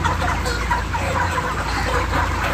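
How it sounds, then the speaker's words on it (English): Ross 308 broiler chickens cluck continuously as a dense flock around an electronic floor scale in a broiler house, a steady close chorus over low background hum. "You see birds going on the scale."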